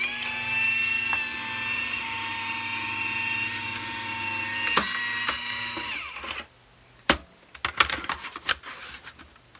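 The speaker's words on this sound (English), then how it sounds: "So here's my die cut machine. I'm just going to put this here. and run it through." A die cut machine runs steadily for about six seconds, a loud, even mechanical whir with a constant hum, then cuts off, followed by a few sharp clicks and handling clatter.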